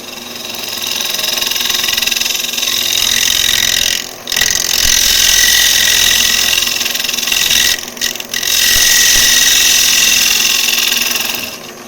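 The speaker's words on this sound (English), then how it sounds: "Really hear all that feathering, that harder wood go past the tool." Scraper on a lathe shaving hard wood, a steady loud whirring hiss with bright grinding texture, interrupted by two short pauses where the tool lifts off the spinning workpiece.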